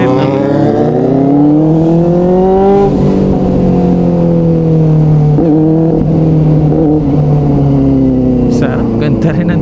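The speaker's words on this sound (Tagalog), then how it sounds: "Sarap, ganda rin ang tunog ni Benelli." A Benelli TNT 600i inline-four motorcycle fitted with an Austin Racing exhaust revs loudly and close, its engine note climbing, easing off and climbing again in a steady, unbroken roar with no talk over it.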